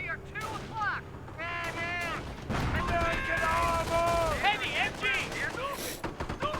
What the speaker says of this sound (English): MG42 setting up, getting some good hits there onto that rifleman.